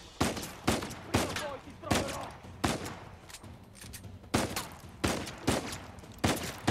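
Enemy gunfire in Uncharted 4 cracks out as a string of loud, sharp shots in irregular bursts, some spaced and some close together, over a low background rumble.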